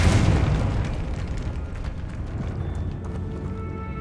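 Fire spell explosion in Hogwarts Legacy: a loud booming burst at the start that decays into a rumbling, crackling tail over a few seconds.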